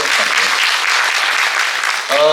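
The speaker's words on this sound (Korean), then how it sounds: "박수 부탁드립니다" A lecture-hall audience at a public forum on Suwon's EcoMobility festival breaks into steady, full applause for about two seconds before a voice begins speaking over its tail.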